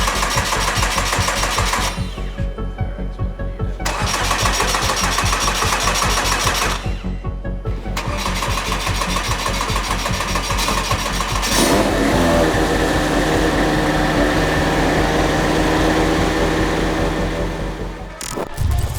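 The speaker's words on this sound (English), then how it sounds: "We'll start it up and do a full systems check" A Subaru race car engine runs loud and steady for most of the span, gritty and buzzing, with its pitch shifting as it is revved, then cuts away near the end.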